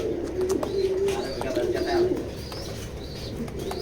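Show pigeons at a loft coo in soft, low repeated calls with a busy background of chatter and rustling around them.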